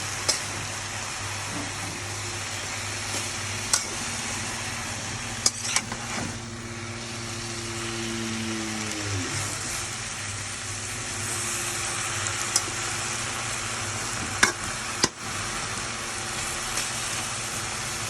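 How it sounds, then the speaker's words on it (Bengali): Leafy greens wilt in a kadai wok as they are stirred, a faint steady sizzle broken by sharp spatula scrapes and clicks, with a low motor hum in the background. "এক কড়াই থেকে আমি শাক দিয়েছিলাম এই নাড়তে নাড়তে শাকগুলো একদম কমে গেছে"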